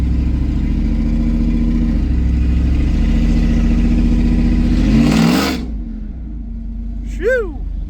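Supercharged Ford SVT Lightning truck engine idling loud and close with a steady low rumble and choppy lope, cutting down around five seconds as a chirp briefly rises, then settling into a quieter, steady idle.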